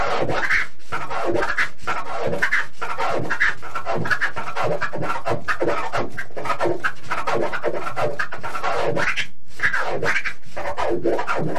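A DJ performs clap scratches on a turntable and fader, making rapid, rhythmic bursts of scratchy rubbing sound repeated close up throughout, with a few brief spoken words mixed in.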